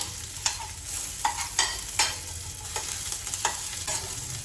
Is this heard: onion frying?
yes